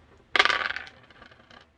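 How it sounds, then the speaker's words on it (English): Dice tumble onto a surface during a tabletop space-fleet wargame, a sudden sharp clatter followed by a quick trail of smaller rattles as they settle, close and fairly quiet. "I need to roll 5s on the dice. I rolled a 1 and a 4."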